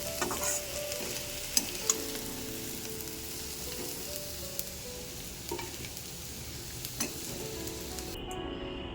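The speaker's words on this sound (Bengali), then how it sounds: "চলো তাহলে ভাজাটা কমপ্লিট করে নিই আমার উচ্ছে আলু ভাজাটা কমপ্লিট হয়ে গেছে" Bitter gourd and potato fry with a soft, steady sizzle in a pan while a utensil stirs and scrapes now and then, close and continuous.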